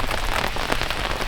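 Rain falling on a canvas tent during a mountain thunderstorm: dense, steady pattering of drops, close and even, with no talk over it.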